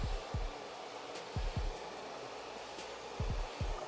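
Steady broadband blowing noise from a hair dryer during a taper fade haircut, constant throughout, with a few low thumps and knocks over it.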